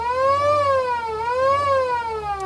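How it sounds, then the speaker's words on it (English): A mechanical siren on an old theatre photoplayer wails steadily, its pitch rising and falling in slow sweeps with rich harmonics, loud and close, with no voices. "And then the old siren."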